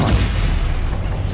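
Stupefy spell cast in Hogwarts Legacy combat, a brief loud booming impact with a heavy low thump and rumbling tail, close and alone without voices.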